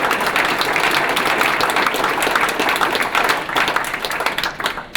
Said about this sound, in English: And we'd like a round of applause.